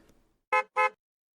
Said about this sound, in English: Car honks its horn.